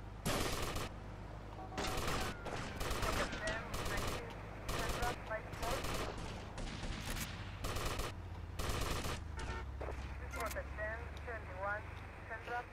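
Repeated sharp sniper rifle shots in GTA Vice City go off at irregular intervals, loud and close, over a steady engine drone, with voices talking between them.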